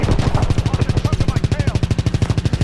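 Call of Duty: WWII combat at trench lines with rapid, sustained machine-gun fire, a loud, evenly pulsing stream of shots close by, and speech faintly underneath.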